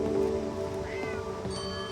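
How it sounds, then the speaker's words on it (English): A kitty in a video game meows several times, drawn-out cries repeated over a faint background hum, fairly close and clear. "I hear kitty"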